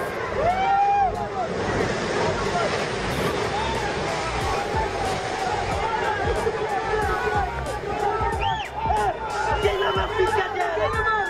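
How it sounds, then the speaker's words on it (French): Several waves crash against a harbour where small boats are swept away, a continuous loud surf wash over wind, with a crowd chattering throughout. "une vidéo qui a été filmée au bord d'un port sur lequel va s'abattre plusieurs vagues"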